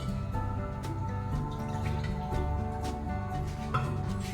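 Water pours and splashes into a pressure cooker holding lentils, a continuous gurgling, dripping flow at close range with no talking.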